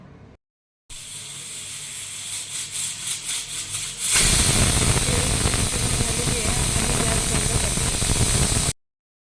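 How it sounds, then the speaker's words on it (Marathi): A pressure cooker of masoor lentils builds up a pulsing hiss that breaks into a loud, sustained steam whistle, roaring steadily for several seconds before cutting off abruptly. "ह्याला एक शिटी मारून घ्यायची आहे"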